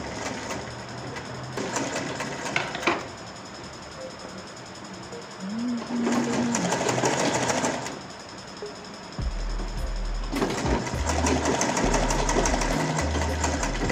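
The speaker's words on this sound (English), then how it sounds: "I'm just sewing the collar stand at this edge before joining the collar" A sewing machine stitches a shirt collar stand in close, steady whirring runs broken by short pauses, three main bursts of rapid mechanical stitching with a faint background hum between them.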